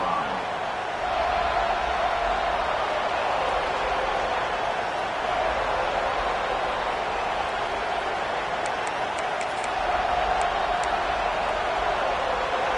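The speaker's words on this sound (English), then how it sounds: "This crowd ready to make its presence known." Dense, steady roar of a big football stadium crowd at a Florida State versus Colorado game, a broad continuous wash of noise without distinct voices, swelling slightly near the start and end.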